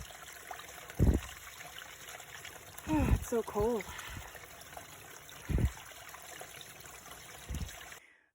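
Water trickling into a bottle from a cold mountain stream on a hiking trail, a soft steady flow under a voice speaking briefly, with a few louder splashes and handling knocks.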